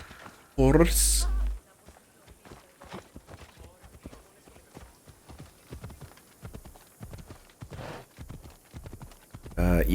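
A horse gallops in the video game Assassin's Creed Odyssey, rapid rhythmic hoofbeats clip-clopping steadily, with a loud game sound burst near the start and end and a player talking over it.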